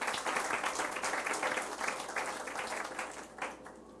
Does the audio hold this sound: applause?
yes